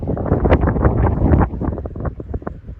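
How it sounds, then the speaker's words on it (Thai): Strong wind buffets the microphone outdoors on an evening walk near a flock of Canada geese, a loud continuous roar with gusty swells throughout. "ลมพัดนะคะลมพัดแห้งนะคะ"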